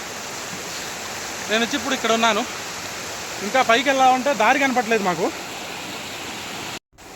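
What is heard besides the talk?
water falling from a waterfall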